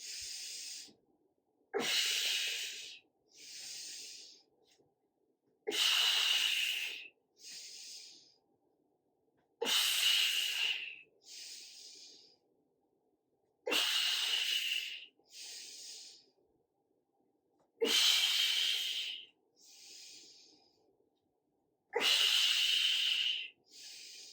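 Breathing exercise during a core workout: forceful exhales and inhales alternate in a steady rhythm, each breath a close, loud airy hiss with a snort-like onset, repeated about six times with short pauses.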